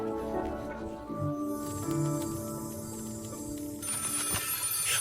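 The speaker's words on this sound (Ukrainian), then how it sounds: "Хтось дзвонить до нас, чи що?" A telephone rings steadily for several seconds as part of a St. Nicholas greeting, its repeated trilling tones sitting over a low background hum, with no one talking.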